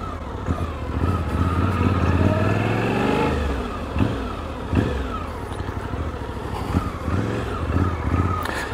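A 2023 Suzuki V-Strom 800DE adventure motorcycle cruising on a test ride, its engine droning loud and close with a rise and fall of revs as it accelerates, under steady rushing wind noise.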